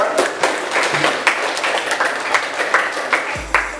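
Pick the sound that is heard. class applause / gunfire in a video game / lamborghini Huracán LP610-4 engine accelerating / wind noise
class applause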